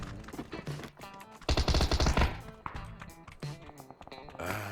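Automatic gunfire in a PUBG match, rapid bursts of shots with a loud dense volley in the middle and scattered sharper cracks around it, heard alone without talk.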